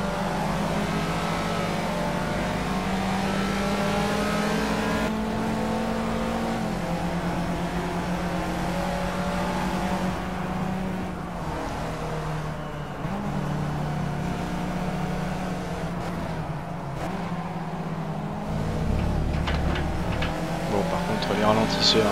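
A race car engine from the Project CARS racing game hums and revs steadily through shifting gears, with the pitch rising again near the end, under continuous engine drone.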